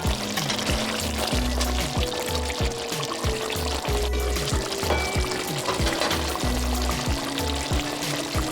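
A cup of water mixed with leftover seasoning and green seasoning poured into a pan of frying curry beef, a close steady pour over continuous sizzling and bubbling, no talk.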